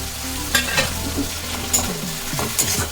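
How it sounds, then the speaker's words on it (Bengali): Fried onion and ginger-garlic paste sizzle in a pan for chicken biryani, a steady frying hiss with spatula stirs and scrapes every second or so. "দিয়ে ভালো করে ভেজে নিতে হবে।"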